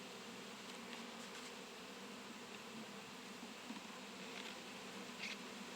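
Honeybees hum in a steady, dense drone at an opened hive during a fall comb check, a continuous buzz with occasional individual bees passing close by and no voices.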